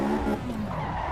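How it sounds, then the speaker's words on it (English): A race car brakes hard on grass in the Assetto Corsa EVO sim racing game, with a sustained, loud tire skid and scrub over engine noise lasting about a second, no voices. "Oh dear, braking on the grass."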